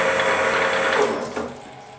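A restored large CNC lathe spindle spins up at 500 rpm, a steady loud mechanical whir with a high tonal whine that holds and then eases slightly toward the end, with no talking.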